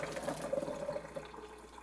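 Water from a pot of boiled potatoes pours and splashes into a sink as they are drained, a steady close running stream with no talking.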